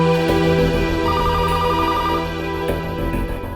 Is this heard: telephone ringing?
yes